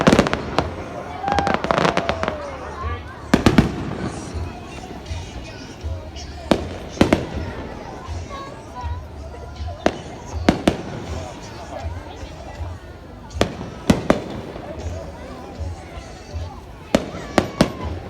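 New Year fireworks bursting over the sea front at Burnham-on-Sea, sharp scattered bangs and crackles at irregular intervals, some close and loud, with people talking and a crowd murmuring throughout.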